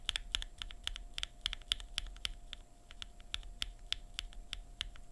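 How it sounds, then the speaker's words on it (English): Keystrokes on a keyboard fitted with stock linear Queen switches, crisp clacks in a quick, irregular typing rhythm, close and clear with no talking. "Stock Queen."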